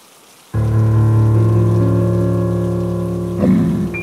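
Heavy rain pours at night outside a roadside food stall, starting abruptly and holding as a loud, steady downpour with a dense roar and a brief louder swell near the end.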